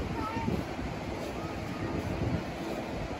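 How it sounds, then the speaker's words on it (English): Wind gusting at the beach, a steady rushing roar buffeting the microphone close up, with faint surf blended underneath. "It's a little breezy."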